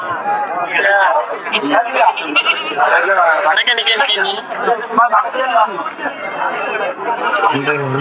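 Goats and young kids bleat repeatedly at a busy livestock market in Puthiyamputhur, Thoothukudi district, their cries mixed into a loud, constant crowd chatter throughout.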